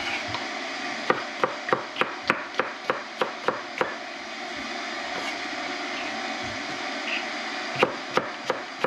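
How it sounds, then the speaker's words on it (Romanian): A knife thinly slices onion and bell peppers on a wooden board for a shrimp teriyaki and rice noodle dish: a steady run of about ten crisp, close chops, a pause, then a few more cuts near the end. "Ceapa ardeii o să le tăiem frumos, subțire, așa, cum trebuie pentru boc."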